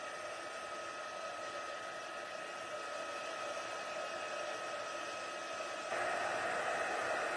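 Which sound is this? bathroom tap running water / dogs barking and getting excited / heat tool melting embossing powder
heat tool melting embossing powder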